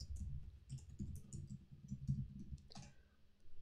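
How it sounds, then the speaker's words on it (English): Keys clicking in a quick, uneven run on a computer keyboard as an email address is typed, close and fairly quiet, with no speech over it. "let's type in our email address."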